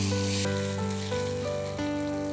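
Onion and mango frying together in a pan for Bengali mango rice give a steady, close sizzle that runs without a break, with no one speaking over it.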